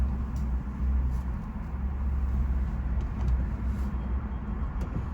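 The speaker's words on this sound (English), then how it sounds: "that car just went right through" A car passes through at Phoenix Sky Harbor Airport as a steady low engine and road rumble, close and continuous, with faint clicks above it.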